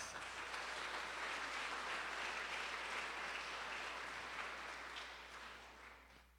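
A school concert audience applauds steadily for a district-placing group, the dense clapping holding strong before thinning and fading near the end.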